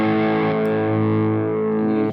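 An electric guitar chord rings through a Vox Valvenergy pedal set with the bright switch and tone cut on, giving a sustained, thick distorted tone that holds steadily and then cuts off abruptly.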